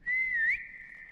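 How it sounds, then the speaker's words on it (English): A character whistling in the horror video game Lost in the Darkness: a single clear, loud whistled note that wavers slightly and rises at the end, then trails off into a fainter sustained tone. "Why is spacebar the whistle button?"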